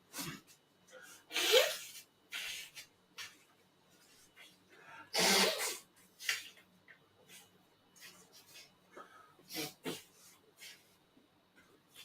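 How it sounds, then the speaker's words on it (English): A couple of sharp, breathy bursts like sneezes or coughs, with quieter sniffs and rustling in between and no talking. "I just got to sneeze."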